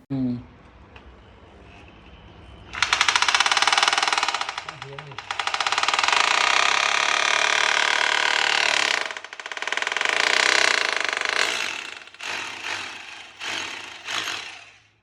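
Loud, sustained grinding of a core drill boring into set, hardened concrete, running in long bursts with brief pauses and a rough, vibrating mechanical tone throughout.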